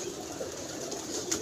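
Pigeons cooing softly at close range amid a steady background hiss, a few low, muffled coos with no voices.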